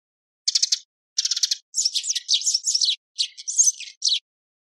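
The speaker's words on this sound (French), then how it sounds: "Le moineau friqué." Eurasian tree sparrow chirping, a series of close, bright chirps in short clusters with brief gaps, repeated over several seconds with nothing else heard.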